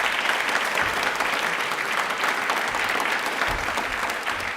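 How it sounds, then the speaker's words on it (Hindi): An audience at a quiz programme on Indian Railways gives loud, sustained applause, a dense, even roar of clapping from start to finish. "अपने लिए एक बार तालियां बजा दीजिए जोरदार वाली।"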